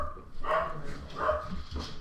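A dog barks three times at a steady pace, moderately loud and fairly close, with no talking over it.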